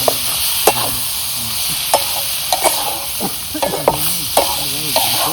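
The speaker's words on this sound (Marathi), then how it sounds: "आता मटकीला सुद्धा याच्यात परतून घ्यायचे" Sprouted moth beans (matki) sauté in masala in a pan, sizzling steadily close up. A spoon scrapes and knocks against the metal in irregular strokes, about a dozen sharp clacks, and there is no talking.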